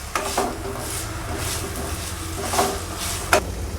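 Boiled drumsticks (moringa pods) being fried in a pan, a low steady sizzle with occasional clacks of a spoon stirring against the pan.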